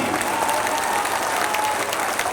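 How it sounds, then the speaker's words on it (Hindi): A crowd at a Jan Suraaj political rally in Bihar claps loudly and continuously, a dense, even burst of applause from a large outdoor gathering with no speech over it. "अब बता लो ताली,"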